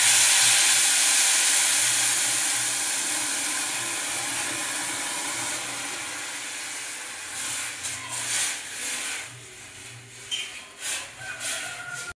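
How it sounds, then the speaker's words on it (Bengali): Cold water poured into a hot frying pan of browned food sets off a loud, sustained hiss of steam that slowly fades into bubbling and sputtering pops. "এবার আমি জল দিয়ে দেবো,"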